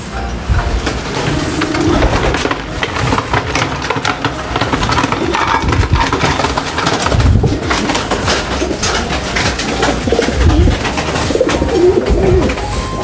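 Pacek dove cooing repeatedly amid a busy, noisy background with low rumbling, the calls fairly close and steady across the stretch.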